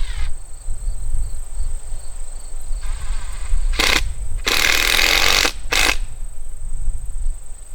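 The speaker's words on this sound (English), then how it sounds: "go grab the gun and get these screws in here and get it solid" A screw gun drives screws into wood outdoors while a mock deer scrape is set up, in three whirring bursts: a short one, a longer sustained run, then another short one, over steady insect chirping.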